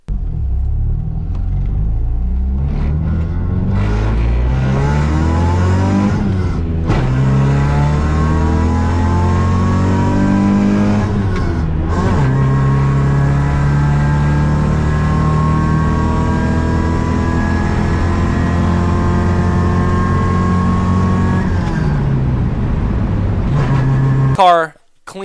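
A 1995 Eclipse car engine runs loud and close for the whole stretch, revving up and down through gear changes with rising and falling pitch, cutting off at the end.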